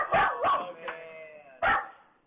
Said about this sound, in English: I wish the dog would stop barking.